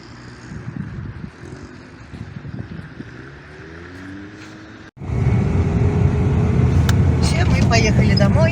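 A car sets off on a slushy, muddy winter day, engine and road rumble rising sharply after a short lull and staying loud and steady, with people talking throughout.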